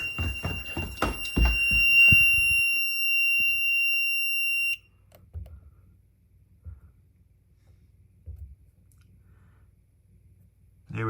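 A home fire alarm system sounds during its annual test: loud rhythmic pulsing tones with a steady high beep for several seconds, then it cuts off, leaving faint clicks and low thumps.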